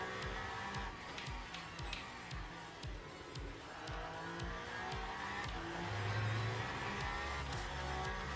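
A race car in the Le Mans Ultimate racing game rides over a curb and steps into oversteer, its engine droning steadily with brief tire squeal layered over the low, muffled rumble.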